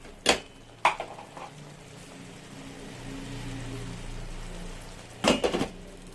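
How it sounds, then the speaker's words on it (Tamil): A lid knocks down onto a pan of cooking tomatoes for a spicy egg curry, giving two sharp metallic clacks early on and another clatter near the end, with a low simmering hiss between them. "இப்படி ஒரு முறை மிக்ஸ் பண்ணி விட்டுட்டு ஒரு மூடி போட்டு வச்சிருவோம்."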